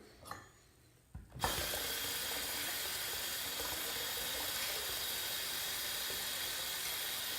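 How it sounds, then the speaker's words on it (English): A tap runs steadily as hands are rinsed under it at a sink, a brief clatter first, then a loud, even rush of water that continues without pause. "let me rinse my hands a little bit here"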